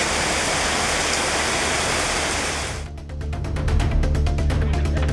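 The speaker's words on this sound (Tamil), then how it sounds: "கன்னியாகுமரி சுற்றுவட்டாரத்தில் இடி மின்னலுடன் மழை பெய்தது." Steady heavy rain pours in the Kanyakumari area during a thunderstorm, a loud continuous hiss of downpour that shifts midway into a closer, rhythmic spattering.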